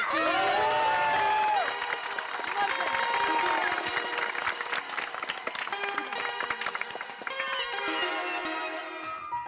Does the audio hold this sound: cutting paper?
no